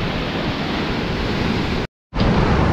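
Ocean waves at Koka Beach near Maumere wash in as a dense, steady roar with wind buffeting the microphone, broken by a brief total dropout before the surf returns.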